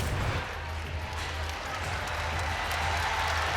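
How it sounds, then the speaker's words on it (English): Applause from the arena crowd at a women's college basketball game against Kansas State, a steady wash of clapping with low crowd rumble throughout, the PA or court hum underneath. "And the crowd gives her a nice round of applause."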